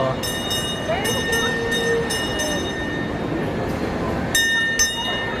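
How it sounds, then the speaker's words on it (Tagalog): Train passing through a mall area at SM Taytay, a steady loud rumble with metallic wheel squeals and repeated clanking, heard close with crowd noise and people talking nearby. "Ayan, mayroon train."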